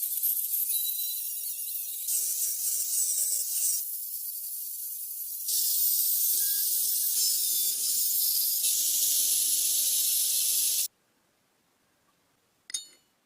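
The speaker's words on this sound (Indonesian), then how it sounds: "Kemudian disemprot dengan pilok" A spray paint can hisses in long steady bursts onto a paper template laid over a knife blank for a folding knife, the close spraying stopping and restarting several times before falling silent.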